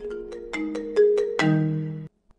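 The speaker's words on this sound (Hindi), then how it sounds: "अननोन नंबर से फोन है।" A mobile phone rings for an incoming call in a drama scene, a bright electronic ringtone of six quick rhythmic pulses followed by a longer sustained tone, loud and close, with no talking.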